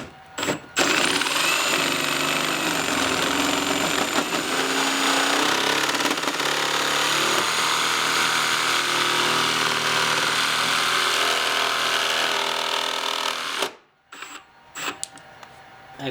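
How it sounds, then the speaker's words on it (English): A jigsaw with a 10 TPI blade cuts into a Porsche Cayman bumper, a loud steady buzzing rasp that runs continuously for about thirteen seconds before stopping abruptly, followed by a few brief knocks. "Okay, so I've got my jigsaw ready to go. I'm using a 10 TPI blade. So let's go ahead and start cutting."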